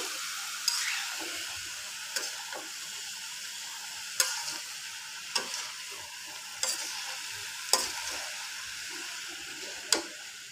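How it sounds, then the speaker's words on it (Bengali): A fish head cooks in a pan with winter vegetables (beans, potato, aubergine, spinach) under a constant sizzle, while the spatula strikes the pan about seven times in sharp, evenly spaced knocks as it stirs. "সবগুলো একটু ভালোভাবে মিক্সড করে দিচ্ছি"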